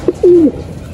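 A racing pigeon gives one close, clear coo as the birds return home, a brief rolling call standing alone against quiet outdoor background.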